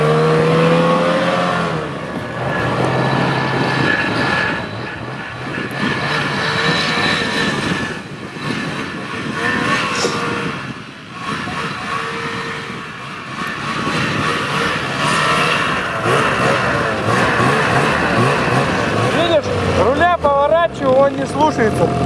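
A mountain snowmobile engine runs and revs steadily throughout on snow, loud and close, with a brief dip midway while people talk over it.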